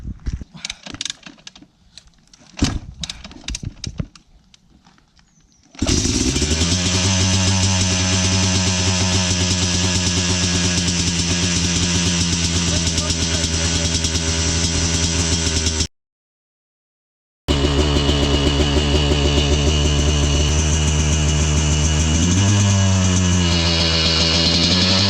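Yamaha YZ250 two-stroke dirt bike engine starting and idling close by, a loud sustained buzzing drone that breaks off briefly and then revs higher, following a few rough sputters at the start.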